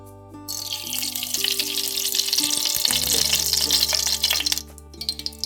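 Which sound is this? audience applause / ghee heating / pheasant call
ghee heating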